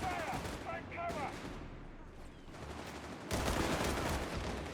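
Dense battlefield gunfire from Company of Heroes 3 (Wehrmacht/DAK versus US/UK forces): loud, continuous rattling fusillade with machine-gun bursts, swelling louder toward the end, under a faint voice.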